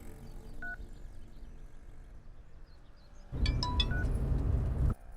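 Telephone number dialed on a keypad: a lone tone, then a rapid burst of several beeps over a louder background, followed by quiet.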